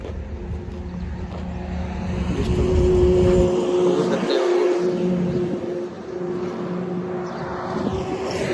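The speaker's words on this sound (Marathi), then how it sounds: "गाड्या चाललेल्या आहेत रोड" Road traffic passes along a town street, a continuous broadband rumble of cars and other vehicles that swells in the middle and stays fairly loud throughout, with no clear talk.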